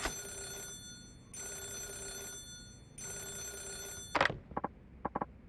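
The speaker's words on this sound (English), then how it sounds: "Is that the phone?" In the video game Yakuza 0, an old-style telephone bell rings in three long bursts with pauses between, followed by a few short clunks as the handset is picked up.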